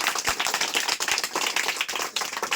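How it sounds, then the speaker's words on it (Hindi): Scattered clapping from a small audience of young children after a correct answer in a quiz on Bihar Police exam questions, busy and close, in an uneven patter without a steady roar. "जोरदार तालियां, सही जवाब"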